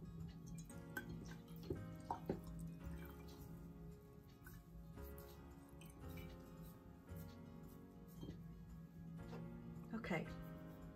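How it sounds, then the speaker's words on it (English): A sponge being rinsed out in water: faint drips, splashes and soft squishing come in scattered bursts, close but quiet, over a low background hum. "Rinse your sponge out."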